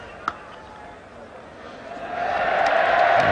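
Crowd at a 1984 West Indies versus England cricket Test match swelling into a broad cheer, the noise building steadily louder over the last second and a half after a quieter murmur.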